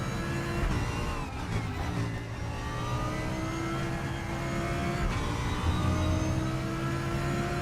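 A race car engine in the RaceRoom racing game, an Audi, roars steadily, revving and shifting through gears with a high, continuous whine, loud and close, with no talking.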